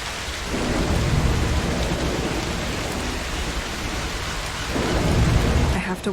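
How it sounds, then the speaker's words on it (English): A heavy thunderstorm in the video game Broken Pieces roars steadily with dense rain and rolling thunder, loud and continuous, swelling again near the end. "A storm could help."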